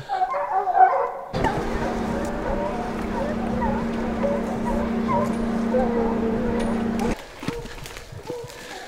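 Hunting dogs bark and yip at a distance while trailing a mountain lion through rough canyon terrain, scattered barks over a steady low engine-like drone, with people talking briefly nearby.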